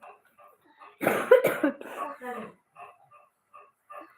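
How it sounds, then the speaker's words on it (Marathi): Someone coughs sharply a couple of times near the mic, followed by brief murmured voices and small noises. "बोललं की खोकला लागतो"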